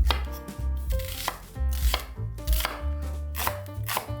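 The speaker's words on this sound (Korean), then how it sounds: "먼저 무는 나박썰기로, 양파, 애호박은 깍둑썰기로 썰어주세요." A knife chops radish, onion and zucchini on a cutting board, a steady run of crisp, close taps in a quick, even rhythm with no talking.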